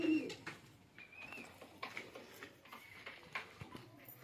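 Soft pigeon cooing close by, a few low murmuring calls amid light rustling and faint clicks, with no talking.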